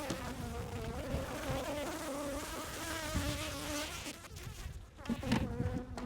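Honeybees buzzing densely around an open hive, a continuous close swarm hum with layered wingbeat tones and no talk.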